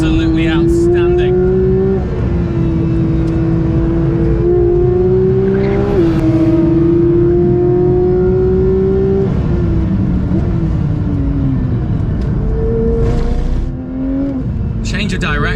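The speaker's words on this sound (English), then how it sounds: "The way you can get on the gas is absolutely outstanding." A Porsche 992 GT3 engine revs and pulls hard through repeated rising, shifting sweeps, loud and close, with a person talking over it.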